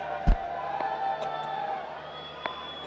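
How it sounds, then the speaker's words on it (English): Cricket crowd cheering in the Fazal Mahmood enclosure at a National T20 match, a broad steady murmur of fans with a sharp thump near the start and a few faint clicks, plus a thin sustained tone over the crowd noise. "Good energy from the crowd."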